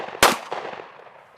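A pistol being reloaded during a drill: the magazine swapped and the slide sent home, heard as one loud sharp metallic clack followed by a softer second clack, close and with no talking.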